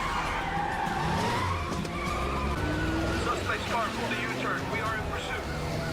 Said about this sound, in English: Suspect's car pulled a U-turn.